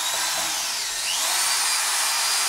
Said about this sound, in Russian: вот в данном случае я закручивал саморезы на 51 мм длиной